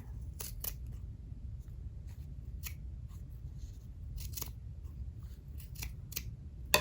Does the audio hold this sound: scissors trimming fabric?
yes